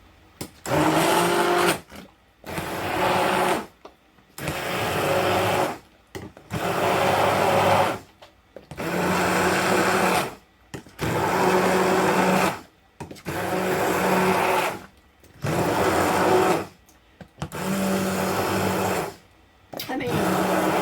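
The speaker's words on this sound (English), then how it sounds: "So I have my stick blender." A stick blender pulses through very hot, thick wartime-recipe potato soup in about nine bursts of roughly two seconds each, loud and close, its motor whirring and churning between brief pauses.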